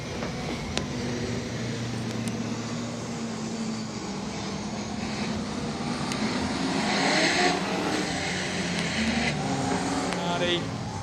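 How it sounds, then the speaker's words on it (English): Speedway race cars at Gympie Speedway for an AMCA Nationals final, a distant steady roar of engines circling the track beneath a commentator's voice. "Go, we're racing as Steve Price"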